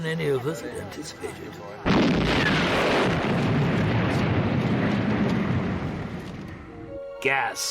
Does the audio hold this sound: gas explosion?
yes